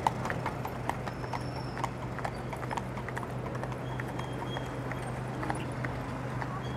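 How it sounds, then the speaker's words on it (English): A pair of NYPD police horses clip-clop on a Manhattan street, their hooves striking the pavement in an even rhythm under steady city traffic rumble and faint voices. "Another pair of NYPD horses."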